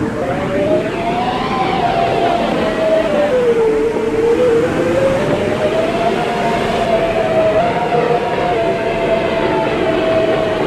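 Roblox game subway train, an R211 M train on a Coney Island route, departing with a continuous loud rumble and a rising then falling motor whine across the whole stretch.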